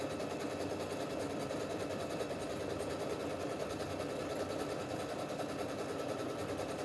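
A sewing machine runs at steady speed, stitching a scallop pattern with Mettler thread, giving a continuous dense mechanical hum and rattle that fills the room without pause or voices.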